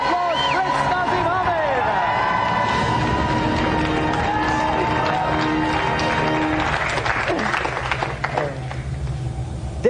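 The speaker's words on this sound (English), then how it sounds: "So let's give a round of applause for Naseem" Studio audience on a 1995 British video game TV show applauds and cheers for undefeated European bantamweight boxing champion Naseem Hamed, a dense, loud crowd roar with whoops running steadily throughout.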